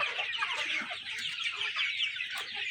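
Sonali deshi chickens on a farm, part of a fully vaccinated flock of five hundred birds, cluck and chatter steadily close by, many overlapping calls forming a continuous busy flock noise with no voices.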